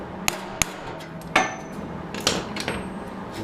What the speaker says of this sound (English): Some really good hits with a hammer